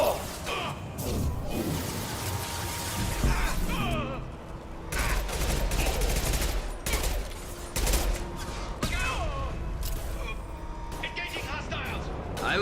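Rifle fire in Mass Effect 2 comes in repeated bursts of sharp shots amid crashes and game effects, and a voice talks over parts of it.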